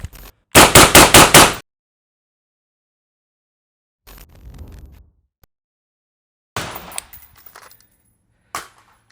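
A suppressed 11.5-inch rifle fires Mark 262 ammunition in a rapid burst of about five shots. After a long silence come a few scattered, quieter clanks and knocks, close by and with no talking.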